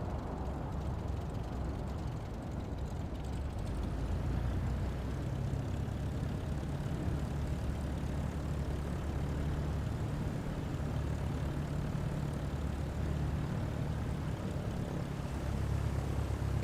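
A light cargo plane taxiing in Microsoft Flight Simulator 2024, a steady propeller engine drone with a broad low rumble holding evenly throughout, no voices.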